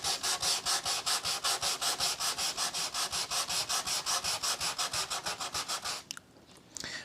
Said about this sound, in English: so when you've sanded the entire full length of the deck